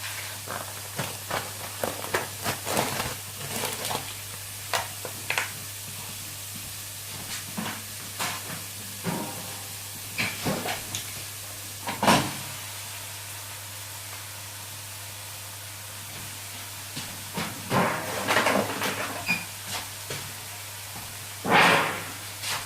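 A package of mince being opened by hand for lasagne gives irregular plastic crinkles and tearing rustles. Sharp bursts sit among quieter handling noises over a steady low hum.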